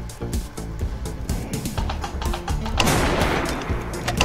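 Rapid gunfire from a weapon in a video game rings out in a quick series of sharp, close shots that keep repeating, growing busier and louder toward the end with no talking over it.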